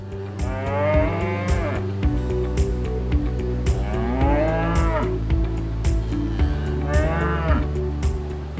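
Several long, loud moos from Belgian Blue cattle, drawn-out and overlapping, repeating every few seconds with steady lowing and livestock noise throughout.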